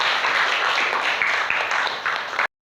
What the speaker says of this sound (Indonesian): silakan duduk dan beri tepuk tangan buat Siti.